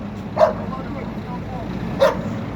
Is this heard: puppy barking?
yes